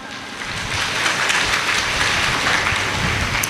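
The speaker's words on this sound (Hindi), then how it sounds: "श्री कौशल्या जी, इनके लिए और सभी भक्तों के लिए जोरदार तालियां।" Sustained applause from a crowd of devotees at a Hindu scripture recital, a dense wash of clapping that fills the whole stretch at steady loudness.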